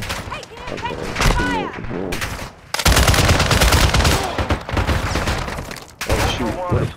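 Loud, dense bursts of automatic gunfire and single shots crackle from a Call of Duty DMZ firefight, coming in rapid volleys with brief gaps, mixed with game voice lines and player chatter.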